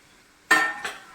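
Capsicum being stirred in a frying pan while cooking pulao, a sudden close scrape and sizzle with a second softer stir stroke, then fading.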